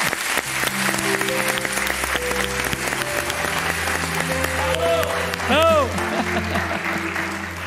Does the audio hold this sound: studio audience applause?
yes